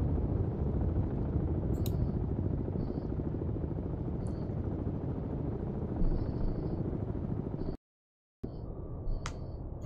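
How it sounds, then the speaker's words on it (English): A helicopter near a Kilo-class submarine in the naval game Cold Waters gives off a constant, dense rotor thrum. Faint high interface blips sound over it, and the sound drops out briefly near the end. "That helicopter you can hear is near the kilo because I was clicked on the kilo."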